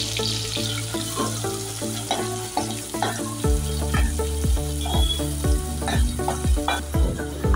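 Two onions sizzle steadily in a generous pool of hot oil for a Malwani chicken curry, with repeated scraping and stirring knocks from a spoon against the pan, loud and close, with no voices.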